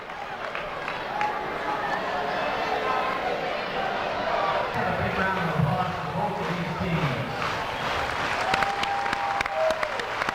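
Steady, warm applause fills a high school basketball gym for both teams, Moline and Rock Island, clapping sustained throughout with a few voices and cheers mixed in, and brief talk in the hall.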